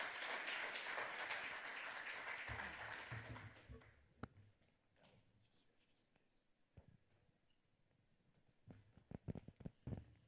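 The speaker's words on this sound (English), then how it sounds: "Give him another round of applause for dealing with a bum mic." A conference audience applauds for a few seconds before the clapping fades out, leaving quieter room noise, thumps and shuffling.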